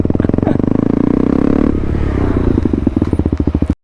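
A motorcycle fitted with a full-system exhaust pops a wheelie, its loud close engine firing in rapid pulses that swell, ease off briefly, then burst back in choppy revs.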